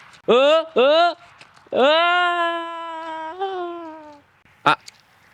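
A cat meows: two short meows, then a long drawn-out meow with a falling pitch, close and loud, ending with a brief sharp squeak.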